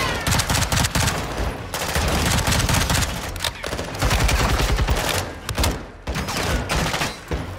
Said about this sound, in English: Gunshots right over my head